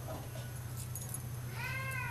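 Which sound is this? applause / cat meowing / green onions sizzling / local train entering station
cat meowing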